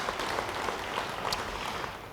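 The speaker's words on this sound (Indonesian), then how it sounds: "Yang percaya, beri tepuk tangan bagi dia." A church congregation applauds during a sermon, a dense, steady wash of clapping from many hands heard at a moderate distance for a couple of seconds.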